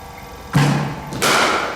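In a cricket net session, a bat strikes the ball in a sharp, solid knock. A second thud follows about half a second later. Both are close and fairly loud, with no talking during the impacts.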